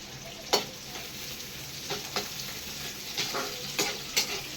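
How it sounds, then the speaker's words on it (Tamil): Onions for a village-style fish curry fry in a pan, a soft continuous sizzle broken by several sharp stirring scrapes and clinks at close range, with no talking. "வெங்காயம் நல்லா வேகட்டும் இப்போ"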